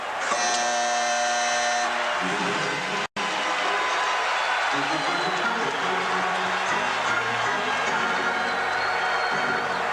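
An end-of-period buzzer blares at an ice hockey arena during a 1983 playoff game between the Islanders and Rangers at Madison Square Garden. The loud harsh tone lasts about a second and a half before giving way to steady crowd roar.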